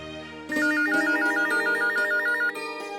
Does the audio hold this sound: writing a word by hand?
no